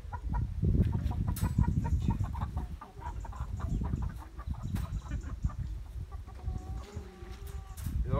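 Araucana and silkie hens cluck in short, repeated calls over heavy low rustling and handling noise, with a clearer drawn-out call near the end.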